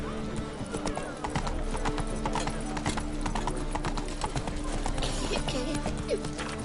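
Roach the horse from The Witcher 3 trots with rapid, steady clip-clop hoofbeats, loud and close, over a layer of game ambience and music.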